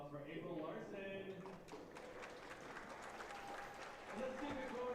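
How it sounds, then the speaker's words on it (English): Audience applause fills a hall at the 2025 WPA Women's 8-Ball World Championship pool event, a steady wash of clapping that runs throughout under an announcer's voice. "Let's keep it going for the voice of the WPBA, Lonnie Fox Raymond."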